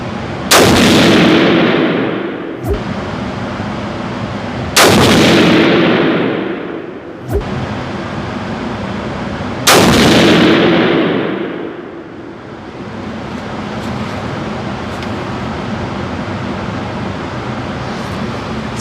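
Loud Hornady ammunition gunshots crack at targets downrange in an outdoor setting, three heavy booming shots spaced several seconds apart plus a sharper pop, each followed by a long rolling echo, and then quieter ambient noise.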